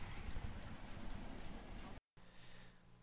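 Autumn rain falling outdoors makes a steady, dense hiss of drops throughout, broken by a brief dropout near the end before a quieter, duller continuation.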